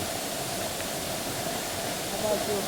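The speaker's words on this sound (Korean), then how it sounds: "천재연 폭포, 제2폭포입니다." Second fall of Cheonjeyeon waterfall on Jeju on a rainy day, a broad, continuous rushing roar of falling water filling the whole short stretch, steady and close.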